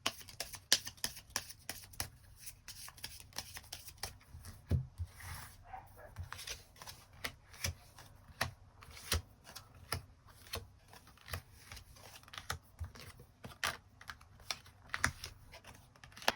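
Tarot cards being shuffled and drawn: a long run of quiet, close, irregular card flicks and slaps, some clustered into quick riffles, with a faint voice now and then.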